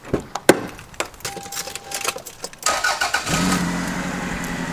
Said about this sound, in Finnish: lyön nyt seuraavaksi auto käyntiin